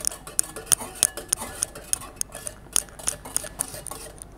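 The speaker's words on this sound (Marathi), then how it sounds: "परत थोडंसं हलवून घ्यायचं आहे" A spoon stirs a kharvas milk mixture with cardamom powder in a metal pot, giving a string of close, sharp clinks and scrapes at a quick, uneven rhythm, with no voices.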